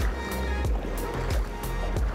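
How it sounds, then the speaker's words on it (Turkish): Tour boat on the sea off Port Barton, Philippines, a rhythmic chugging engine pulse with regular thumps about every third of a second, heard close and steady amid water wash. "Bakın bir tur teknesi daha geliyor buraya."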